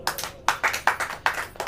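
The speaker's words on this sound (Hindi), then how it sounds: "ताली बजाओ।" A congregation clapping in a church service, a run of about eight sharp hand claps in an uneven rhythm, fairly close and moderately loud with no talking.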